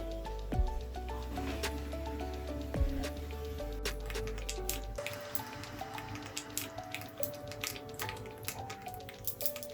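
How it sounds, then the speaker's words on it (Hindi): Half a spoon of mustard seeds splutters in hot oil alongside cumin for a bread upma, giving irregular sharp pops and crackles that grow busier after a few quieter, sparse snaps. "उसमें डालेंगे राई आधी चम्मच, इसको थोड़ा स्प्लटर होने देंगे।"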